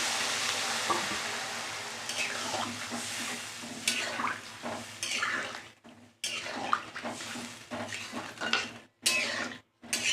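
Water poured into a sizzling vegetarian paneer and potato curry in a pan, a loud frying hiss with stirring and clinks of a utensil against the pot, broken by brief gaps of near silence.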